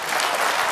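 A brief, dense burst of applause from a snooker match crowd, steady clapping that fills the short moment with no pauses.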